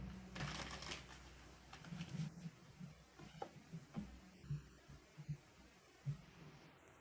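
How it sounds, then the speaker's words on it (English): Quiet, papery riffling of a tarot deck being shuffled close by, in soft bursts with small taps between them, no talking. "All right, one more shuffle."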